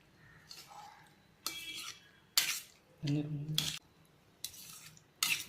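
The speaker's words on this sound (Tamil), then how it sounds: "இப்போ நம்ம இதை கிளறி விட்டுடலாம்." Kodo millet sambar rice being stirred in a cooking pot, with scraping, clinking bursts of a metal spoon against the pot coming in short irregular strokes, separated by quieter gaps.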